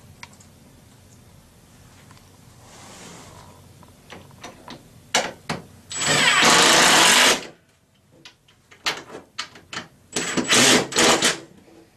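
Screws are driven tight into a Forevermark base kitchen cabinet: scattered clicks and handling knocks, then two loud whirring bursts of a powered driver, each lasting about a second, close up with no talk.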